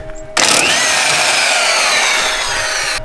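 An impact wrench fitted with a 19mm socket spins off a nut on a Nissan 240SX drift build. After a short quiet start comes one loud, steady, continuous burst of whirring and rattling that runs for nearly three seconds.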